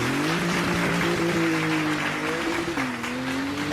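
A Porsche engine revving and accelerating, a loud sustained tone that climbs and shifts pitch with a brief dip before rising again, heard alone.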